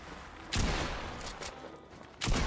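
Gunfire in the Fortnite Chapter 2 Remix battle royale game: two loud bursts of shots, one around half a second in and another near the end, with lower rattling and game noise between them.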